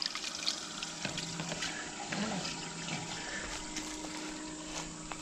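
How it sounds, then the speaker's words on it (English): Fresh water flows steadily from a Latch.it RV macerator pump through a hose into a septic inlet, a soft continuous splashing trickle with faint pump hum, quiet and uninterrupted. "Just want to give you an idea of how much water pressure is coming out of the pump."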